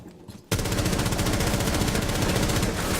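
Rapid, continuous burst of pistol fire in a first-person shooter game, loud and close, with shots merging into a fast rattling stream for several seconds after a quiet start.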